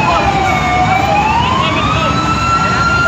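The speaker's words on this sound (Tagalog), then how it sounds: "Nandito na yung mga fire truck ng Silang." Fire truck sirens wail loudly and continuously, several tones rising and falling together over rumbling engine noise as trucks arrive at a fire in Anabu Hills, Imus, Cavite.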